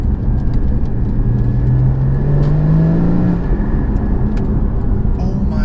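The engine of a Porsche Cayman 981 GT4 blips and rises in pitch on a downshift, heard from inside the cabin as a loud, steady drone with a smooth climbing tone, then settling back.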